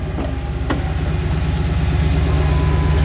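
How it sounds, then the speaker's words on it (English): A deep, rumbling V8 engine of a 2006 Dodge Charger SRT-8 idles steadily up close, a low throaty burble that grows slightly louder, with no voices. "One of the greatest things about the SRT-8s is how they sound."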